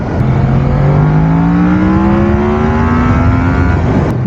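Yamaha MT-10 1000cc motorcycle engine heard while riding, a loud, close, steady drone that climbs smoothly in pitch as it accelerates, alone without talk.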